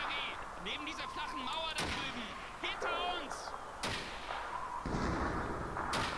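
Enemy gunfire in Call of Duty 2, sharp rifle shots cracking several times at irregular intervals over a battlefield din, with someone talking between them.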